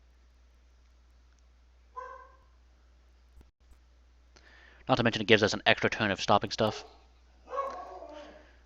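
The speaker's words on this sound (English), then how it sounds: "Sorry about the barking." A dog barks a few times in the background, short sharp yips spaced out, while someone talks over them at close range.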